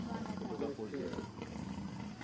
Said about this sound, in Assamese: গৰজি আছে বাঘে।